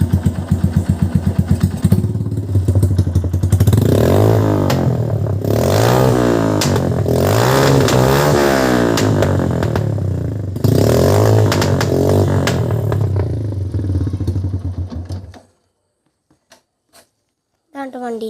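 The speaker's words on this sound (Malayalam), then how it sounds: "വണ്ടീൻ്റെ ശബ്ദം ഞാൻ റേസ് ചെയ്ത് കാണിച്ചു തരാം." A motorcycle engine revved hard several times, loud and close, with rising and falling pitch sweeps, before cutting off abruptly to near silence near the end; a brief voice is heard early.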